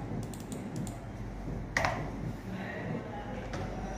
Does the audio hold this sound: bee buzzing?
no